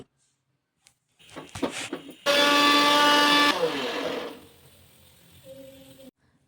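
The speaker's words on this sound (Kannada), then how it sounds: "ಕ್ಯೂಬ್ಸ್ ಆಗಿ ಕಟ್ ಮಾಡಿಕೊಂಡು ಮಿಕ್ಸಿ ಮಾಡ್ಕೊತೀನಿ" A kitchen mixer grinder blends cut beetroot cubes, starting after a few clicks and handling knocks, then running in a loud, whining burst of about a second before spinning down and falling quiet.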